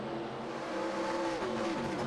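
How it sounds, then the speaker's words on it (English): Race car in iRacing bouncing off its rev limiter, a sustained buzzing engine drone with stuttering pitch steps, fairly loud and steady throughout with no speech. "Gion and the Hodgeswood racing car hitting the rev limiter."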